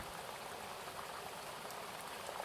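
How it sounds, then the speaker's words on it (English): Rain patters on the outside of a boat on a Scottish loch, a faint, even, continuous hiss heard from within, with no talking. "continuing to listen to the rain, feeling deeply relaxed as it falls"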